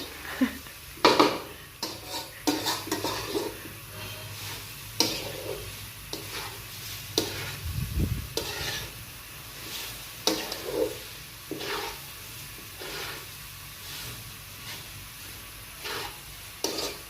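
Halwa cooking in ghee being stirred in a pot, with irregular scraping and clanking of a spoon against metal over a low sizzle, strokes coming in uneven bursts throughout.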